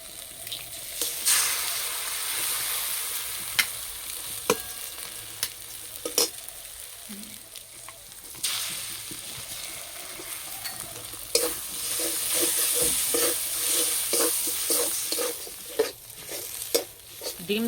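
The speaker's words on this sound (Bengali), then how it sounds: "ডিম দুটো এইভাবে ঝুড়ো ঝুড়ো করে ভেজে নেব।" Two eggs scrambled into small crumbles in a pan with fried onion, salt, turmeric and Maggi masala sizzle steadily, while a spatula scrapes and stirs them in irregular strokes.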